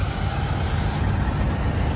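A Peterbilt truck passing at a truck stop in the rain, a steady loud hiss and engine rumble that rolls past nearby, with no talk.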